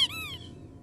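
A rubber duck toy in the horror game Rise of Insanity gives one short, high, sliding squeak at the start, fading quickly over a low ambient hum.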